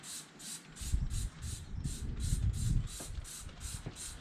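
Alloy cleaner sprayed onto the bare metal of a Honda CL 350 Scrambler motorcycle, a steady run of about a dozen short, evenly spaced hissing bursts, close and moderately loud.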